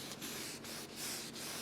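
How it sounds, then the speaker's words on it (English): Sandpaper rubs rhythmically over bicycle paint during color sanding, soft repeated back-and-forth strokes, quiet and close, with no voices. "the thing with color sanding is you kind of feel it."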